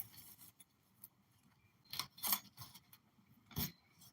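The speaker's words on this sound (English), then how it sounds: "Cut a piece of Visco fuse." Scissors cutting a piece of Visco fuse, a few quiet, crisp snips and clicks spread across a near-silent background, close by.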